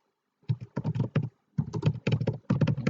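Keys clatter on a computer keyboard in quick bursts of close, crisp taps, three short runs separated by brief pauses, with no voices.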